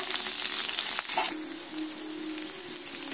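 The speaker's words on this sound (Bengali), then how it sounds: "তেলের মধ্যে দিয়ে পেঁয়াজটা একটু লাল লাল করে ভেজে নেব" Chopped onions fry in hot oil in a wok, giving a bright, steady sizzle that is loudest in the first second and then settles to a softer, even crackle, with no voices.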